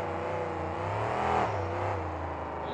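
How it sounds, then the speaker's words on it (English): Monster trucks racing through a turn at a KORR Monsters event in New Orleans, with a steady, loud engine roar that swells briefly midway as the trucks push through the corner. "Seen a lot of these trucks pushing through the turns."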